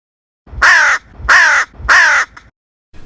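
A hooded crow gives three harsh, evenly spaced caws close by, with the start of a fourth cut off at the end, against otherwise quiet surroundings.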